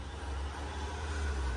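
Steady low road-traffic rumble from passing cars and trucks outside, heard during a plumbing job on an over-pressurised boiler; a constant muffled drone with no talk.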